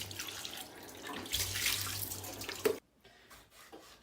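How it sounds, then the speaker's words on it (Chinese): Pork liver is rinsed under a running kitchen tap: a steady, fairly close splash of water that cuts off abruptly near the end, leaving a quiet room. "今天炒个猪肝，俺妈买的猪肝，猪肝洗一下"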